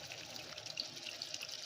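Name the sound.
tamarind water poured into cooking pan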